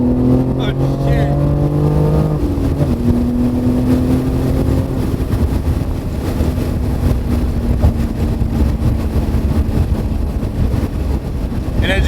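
A BMW G80 M3 with an AWE Switchpath exhaust and high-flow catted downpipes drones loudly under acceleration, engine tone climbing then settling after a shift, with heavy wind noise throughout.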